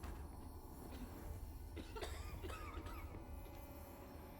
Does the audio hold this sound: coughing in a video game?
yes